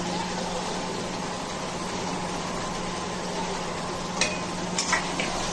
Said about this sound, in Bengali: এবারে জিরে ধনে বাটাটা দিয়ে দিলাম, গুঁড়োটা।